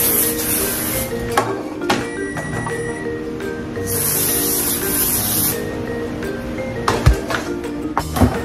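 Short hissing bursts of aerosol cooking spray onto cake pans, a few seconds each, with clanks and taps of the metal pans between them.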